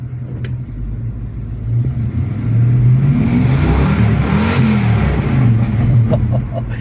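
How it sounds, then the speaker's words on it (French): A Ford Mustang engine rumbles loudly nearby at a car show, building into a deep, sustained rev that swells and holds before easing slightly. "Le monsieur va faire rugir le moteur, vous allez l'entendre."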